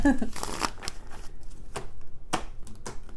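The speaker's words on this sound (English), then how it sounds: "going to shuffle one more time." Tarot cards are shuffled and riffled with brisk, crisp rustling snaps in quick bursts, close by.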